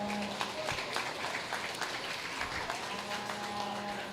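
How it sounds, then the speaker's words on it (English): Applause from the audience at a 4-H county fair rabbit show, steady and dense, filling the whole stretch at moderate volume. "Let's give them a nice round of applause."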